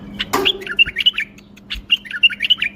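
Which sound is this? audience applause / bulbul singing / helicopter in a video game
bulbul singing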